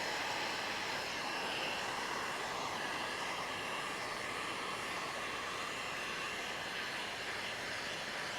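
A heat-shrink heat gun blows air in a steady, loud, broadband rush that holds constant from start to finish, with no pauses and no talking.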